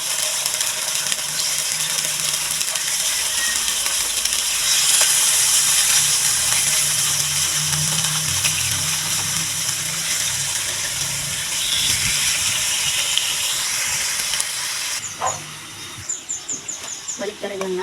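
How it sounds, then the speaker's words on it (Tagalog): Marinated beef sizzles in hot margarine in a pan, a loud, continuous hissing fry that runs steadily before easing near the end amid a few clattering stirs. "i-fry muna natin yung ating karne ng baka"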